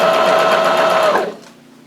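Sewing machine stitching fabric around elastic for a scrunchie: a fast, even mechanical whirr of the needle running close for over a second, then stopping abruptly.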